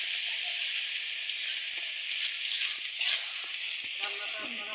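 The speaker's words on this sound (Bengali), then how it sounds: "প্রথমত আমি সব মশলাগুলো দিয়ে দিলাম কড়াইতে।" Spices fry in a kadai with a steady, close hiss and sizzle that lasts throughout, with a few faint stirring clicks.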